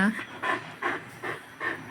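A dog pants in quick, rhythmic bursts, about five breaths over two seconds, close by with no other sound.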